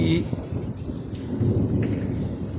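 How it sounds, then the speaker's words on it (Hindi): Heavy rain pouring steadily during a thunderstorm in Islamabad, with low rolling thunder rumbling close and loud throughout. "शदीद बारिश हुई है इस्लामाबाद में जी।"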